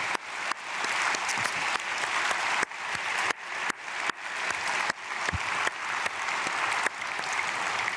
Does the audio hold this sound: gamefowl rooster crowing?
no